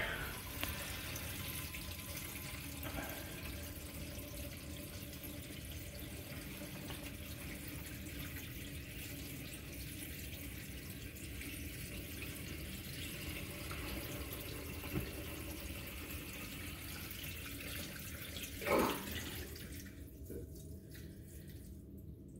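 Water runs steadily down a drain during a test of newly installed plumbing, a faint, even wash of flow that continues throughout, ending with a brief clunk and gurgle near the close.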